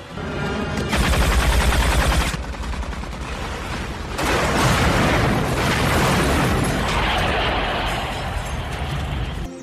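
A weapon is test-fired in a film, producing loud, sustained bursts of gunfire and booming blasts that come in several heavy waves, close and dense.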